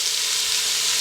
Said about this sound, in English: we're gonna saute that for just a few minutes